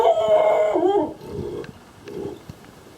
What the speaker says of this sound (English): There's a dog in the backyard.